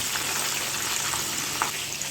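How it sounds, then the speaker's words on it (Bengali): KFC-style chicken lollipop wings deep-frying in hot oil, a loud, even, close sizzle that fills the whole stretch, with small pops and bubbles and no talk. "তো এইভাবে আমরা ক্রিস্পি ক্রিস্পি করে ভেজে নেব"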